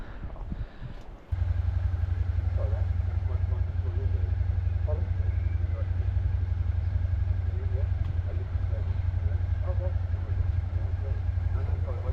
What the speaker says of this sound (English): Motorcycle. Vroom vroom. Motorcycle, that's all.